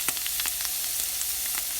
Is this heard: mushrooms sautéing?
yes